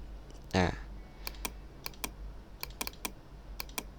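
Quiet keystrokes tap on a computer keyboard in short irregular bursts, each click distinct and close, with a louder clatter near the start and no talking over them.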